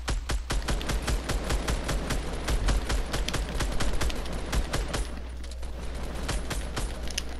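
Rapid bursts of automatic gunfire crackle in a Fortnite squad match, dozens of sharp shots in quick succession over several seconds, fairly loud and continuous with brief gaps, no talking over it.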